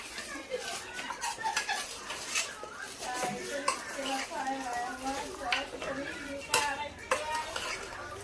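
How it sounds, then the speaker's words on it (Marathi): Chopped tomato is stirred into a village-style chicken curry in a pot, a spoon scraping and clinking against metal in irregular bursts, fairly quiet, with people talking over it. "थोडंसं याला मिक्स करून घेऊ"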